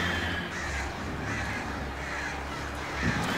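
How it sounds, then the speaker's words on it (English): Crows or grouse-like birds cawing and swarming to attack in the Alan Wake video game, harsh repeated caws layered over a steady rumbling game soundscape, loud and continuous with no talk. "You got beautiful birds, grouse actually. They fly around, they attack you"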